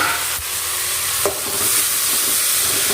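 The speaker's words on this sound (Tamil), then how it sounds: "தக்காளி நல்லா ஒரு 2 நிமிஷம் நல்லா வதங்க விடலாம்." Tomatoes sauté with browned onions in a pan for a village-style dried fish curry, giving a steady close sizzle with a couple of brief stirring scrapes.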